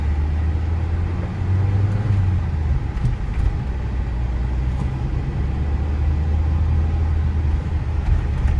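A 1991 Saab 900 SPG with a freshly replaced clutch drives along, its engine and road rumble steady and close throughout, with a brief rise in engine note partway through and no voices.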